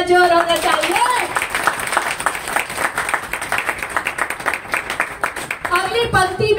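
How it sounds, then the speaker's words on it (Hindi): Audience applause at a Hindi poetry recital (kavi sammelan), a sustained wash of many hands clapping that swells and pulses for several seconds, with a voice speaking at the start and end. "मगर आपकी तालियों में भी तो थोड़ा जोर होना चाहिए।"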